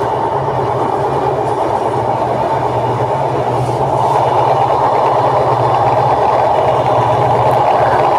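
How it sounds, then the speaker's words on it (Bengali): Onboard the Rupsha Bangla Express crossing the Padma bridge, a loud, steady rumble of rolling wheels and carriage noise fills the whole span, with faint rhythmic clatter underneath. "এই প্রথম পদ্মা সেতুর উপরে ট্রেনটি উঠতেছে"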